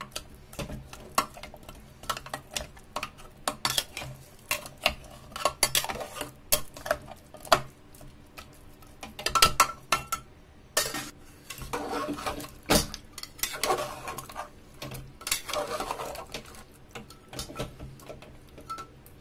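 A spoon scrapes and clinks against a pot in irregular bursts, stirring a thick onion mixture for mutton korma close by with no talking.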